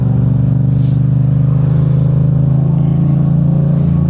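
Yamaha MT07 motorcycle engine droning steadily and close while being ridden, a continuous low hum with no clear revving.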